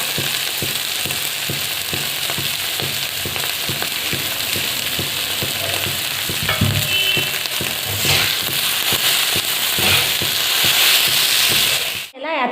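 Green chilli thecha fries steadily in a pan with chopped coriander, a dense continuous sizzle broken by rhythmic scraping stir strokes, with a brief louder flare of crackling midway and a sudden clatter at the end.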